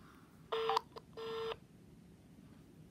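A Samsung Gear S3 smartwatch dialing a call gives two short electronic tones, the second longer, close and clear over a faint background hiss, with no talking.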